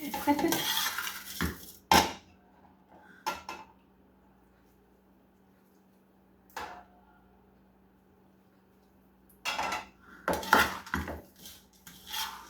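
A metal utensil clinks and scrapes against a bowl as syrup is mixed into food, in short separate bursts with quiet pauses between them and no voices.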